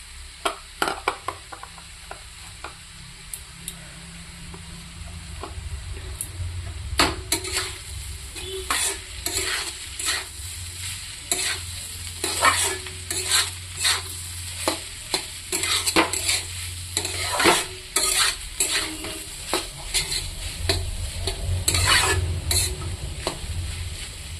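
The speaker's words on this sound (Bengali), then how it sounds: "ধনে পাতা দিয়ে আর কিছুক্ষণ কষিয়ে নিয়েছি" Turnip bhaji with coriander leaves is stir-fried in a pan: repeated scraping spatula strokes in an uneven rhythm over a low, constant sizzle.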